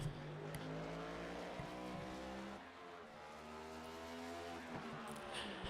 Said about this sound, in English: We're on board with Dylan Hoffman in the 15, coming out of 4.